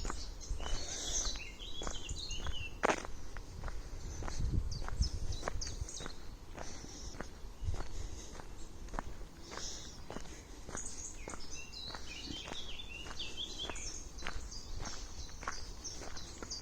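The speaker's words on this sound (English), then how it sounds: "Just listening at the little bits of bird song, I hope you can hear them." Individual birds sing from a tree beside a woodland glade, with faint scattered chirps and short song phrases heard alongside crunching footsteps on the ground throughout.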